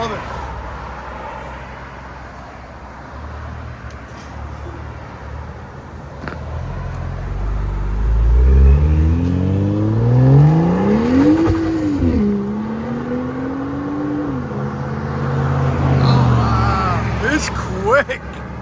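A 515 hp BMW M2 Competition Dinan Edition, one of 150, revs its exhaust in Nashville, Tennessee, climbing to a loud roaring peak, dropping, then rising again before easing off, with voices in the background.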